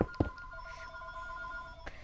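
A telephone rings in a room with a steady electronic tone lasting most of the moment, ending with a brief click, preceded by a couple of soft knocks.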